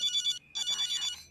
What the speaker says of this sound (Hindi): क्या मैक, तुम फोन क्यों नहीं उठा रहे हो?